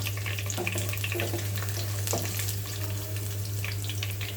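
Whole spices and lightly crushed ginger frying in oil for a chicken curry, a quiet continuous sizzle with a few crackles and utensil scrapes over a low steady hum.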